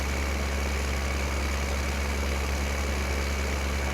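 Tractor engine idling in the Farming Simulator 15 video game on the Sosnovka map, a steady, continuous low rumble with a constant drone and no changes in pitch, heard alone without talk.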